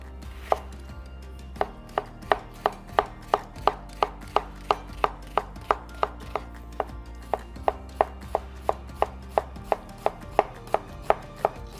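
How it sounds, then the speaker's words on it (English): Knife slicing a red onion very thin on a cutting board, a steady run of about thirty crisp taps at an even, brisk rhythm, close and clear with no talk. "I'm going to cut it like an onion, but I'm going to cut it very thin"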